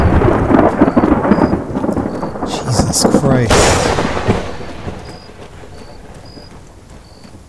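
A loud thunder crash from a lightning strike in the military shooter game Arma 3, rumbling over rain, with a sharp crack midway that fades into a long decaying roll, while a player exclaims briefly.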